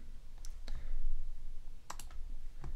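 Mouse clicks while opening files in web design software, a few sharp isolated clicks spaced apart over faint room noise.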